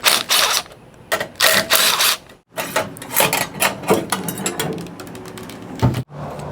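An 8mm socket ratchet clicks in quick bursts while removing radio side-bracket screws on a 2014-2021 Toyota Tundra, with short pauses and metallic handling noises, close and fairly loud.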